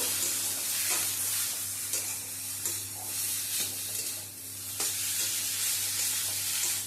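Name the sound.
stirring fish chop mixture with chopped coriander in pan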